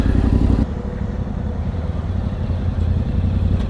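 Motorcycles rumble close by as riders arrive to park at a biker cafe, with a loud engine drone that drops sharply early on to a lower idling mutter and clatter.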